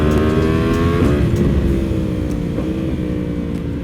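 Heavily modified Yamaha R1M motorcycle with a modded exhaust, its engine droning loud and close, then dropping in pitch as it downshifts, with a couple of sharp blips and pops near the end.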